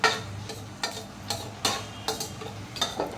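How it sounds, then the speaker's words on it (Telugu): Peanuts, cumin and mustard seeds fry in hot oil in a pan while being stirred, a soft steady sizzle broken by a regular series of scraping, clattering stirs close by. "ఇప్పుడు ఇందులో పల్లీలు, జీలకర్ర, ఆవాలు వేసేద్దామండి. వేసిన తర్వాత ఒకసారి కలుపుకుందాం."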